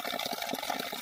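Spring water from a village spout in Uttarakhand, fed by a source beneath a tree, runs in a steady, soft gush of flowing water, faint and continuous with no voices.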